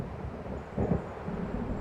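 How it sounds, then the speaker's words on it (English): Distant thunder from an approaching storm in the video game Alan Wake, a low, faint rumble swelling briefly midway through the short stretch, with no talk. "It seems there's a storm coming."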